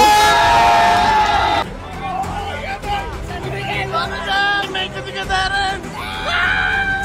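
A crowd at a Filipino selection event erupts in loud screaming and cheering, a dense burst that drops slightly into ongoing shouting and excited chatter, with cries swelling again near the end.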